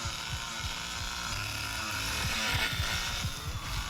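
Chainsaw in The Texas Chainsaw Massacre video game revving in rapid sputtering bursts, a rough buzzing engine stuttering close and loud, rising briefly toward the end.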